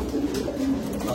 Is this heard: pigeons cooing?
yes